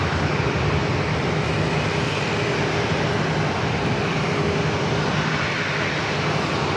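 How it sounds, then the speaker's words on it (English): A Southwest Airlines Boeing 737-800 arriving at San Diego airport gives a steady, loud broadband jet roar that holds evenly throughout, with no voices. "Our next arrival is Southwest Airlines coming in from Denver, Flight 1700, a 737-800"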